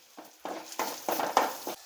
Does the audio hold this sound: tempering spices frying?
yes